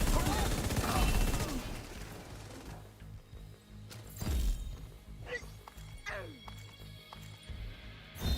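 Gunfire in The Division, a loose burst of repeated game shots in the first seconds, then scattered sharper cracks and impacts under game sounds, with talk now and then.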